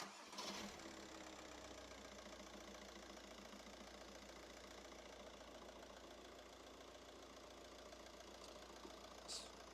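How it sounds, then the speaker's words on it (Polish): A 1.9 TDI PD diesel car engine idles steadily, a close, even rumble with a rapid mechanical knock that runs unchanged throughout. "proszę Cię, żebyś uruchomił silnik"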